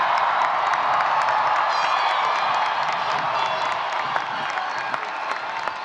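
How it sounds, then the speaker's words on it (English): Commencement crowd at San Francisco State University's 2026 ceremony applauding and cheering for the graduating class, a dense, loud, sustained wash of clapping with whoops and shouts throughout. "Please join me again in a round of applause."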